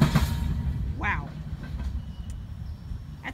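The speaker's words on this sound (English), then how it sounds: "of all the times I've been here with Marion, I've never seen him dump ballast like that" A CSX freight train dumping ballast, a loud continuous rumble and grinding of railcars close by, with a voice briefly heard over it.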